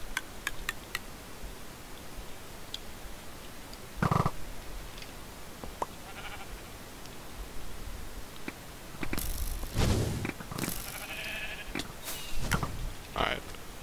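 Sheep bleating in Minecraft come through as a few short, scattered calls among clicky game sounds, with some louder bursts near the end.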